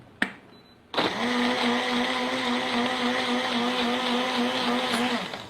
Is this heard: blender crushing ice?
yes